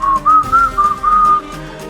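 A person whistling softly and cheerfully, a short, wavering tune of several bright, close notes in a quick rhythm, heard alone without speech.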